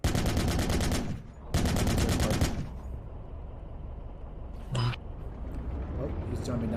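Gunfire in a tank video game, heard as two sustained bursts of rapid automatic fire followed by a lone sharp shot, up close and loud over a steady rumbling background.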